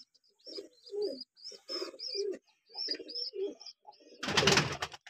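Kaalsira pigeons coo in a series of soft, close, repeated phrases with short pauses, ending in a brief rustle or flutter; no voices.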